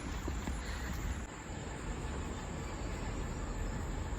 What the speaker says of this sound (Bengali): ট্রেন আমাদের চলে এসছে